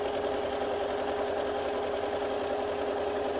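A sewing machine stitches steadily and evenly at close range, its fast mechanical hum and rattle continuing without pause.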